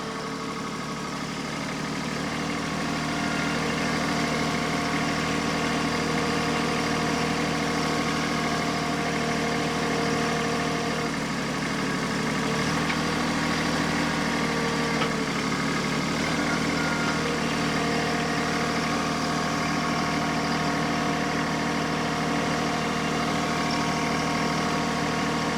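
A tractor engine runs steadily while pulling a plow through a potato field, a loud, continuous mid-to-low drone with a slight vibrating roughness and no break across the whole stretch.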